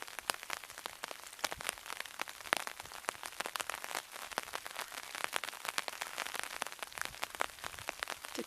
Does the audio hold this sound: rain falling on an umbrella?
yes